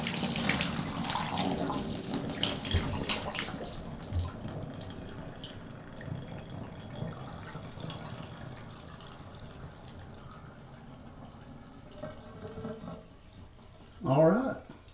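Water gushes through a freshly repaired household pipe at a tap, loud at first as air is pushed out, then settling into a quieter trickle with a brief spurt near the end, while someone talks.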